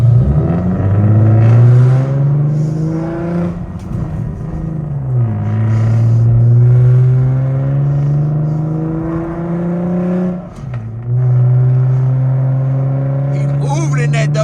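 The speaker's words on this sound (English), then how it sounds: "He's moving in that WRX." A Subaru WRX accelerates hard away from a car meet, its engine climbing steadily in pitch, dropping on two gear shifts and rising again, loud and near.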